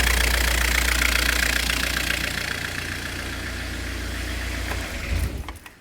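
A Ford Escort Mk6 Finesse idles close by with a steady, loud, slightly knocking engine rumble that holds even, then dips and cuts off near the end.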